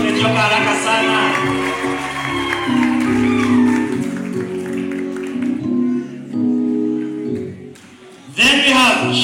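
A crowd at an event applauds and cheers, a sustained mix of clapping and voices under a loud amplified talker, fading slightly before a fresh burst near the end.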